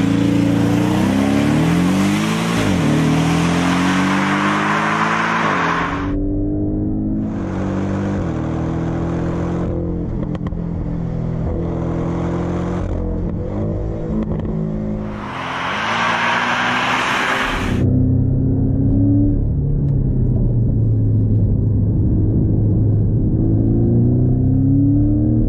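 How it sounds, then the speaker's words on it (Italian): Porsche 718 Cayman GTS, a mid-engine four-cylinder sports car with 375 horsepower, revs and accelerates loudly up close, its engine note rising and falling through gear changes with bursts of intake roar, heard alone without talk. "oggi proviamo la Porsche più maschia, dura e cruda, con ben 375 cavalli e motore centrale"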